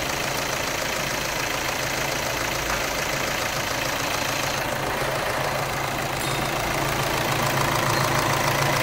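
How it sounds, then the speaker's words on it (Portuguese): Volkswagen Amarok pickup engine idling steadily after a timing belt change in a workshop, a continuous even rumble with no talk. "Motor funcionando bonitinho. Vamos deixar dar uma aquecida aqui."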